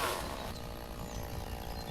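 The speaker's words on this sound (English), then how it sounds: "Let's whip up the chainsaw." A chainsaw in the logging game Lumberjack's Dynasty buzzes in a steady, moderately quiet drone that flares briefly at the start and then holds an even idle-like rattle, with no talking.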